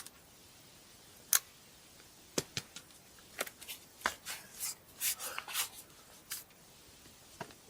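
Dry fishing bait mix with added gluten stirred in a bowl, giving faint scattered ticks, rubs and scraping taps at an irregular rhythm in a quiet room.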